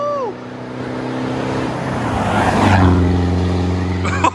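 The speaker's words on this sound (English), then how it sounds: "So he turned his car around, and I hope that he's gonna rip it past us." A loud Land Rover Defender 90 on stage 2 air suspension roars past on a 60-mile-an-hour road, engine note rising as it approaches close by and sweeping through, then fading.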